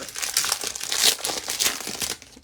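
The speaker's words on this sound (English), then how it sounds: "Sorry for the noise, the cellophane." Crisp cellophane crinkling up close, a continuous rustle of sharp crackles that swell and fade over a couple of seconds.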